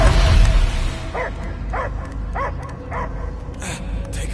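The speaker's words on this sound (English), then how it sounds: "I hear only barking" A dog in the video game Guardians of the Galaxy gives a series of short, evenly spaced barks or yips, about five in a row, over a low rumbling game background.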